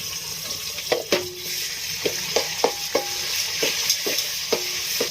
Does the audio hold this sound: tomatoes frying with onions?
yes